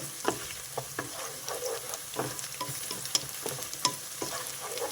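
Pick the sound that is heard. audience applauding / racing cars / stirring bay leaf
stirring bay leaf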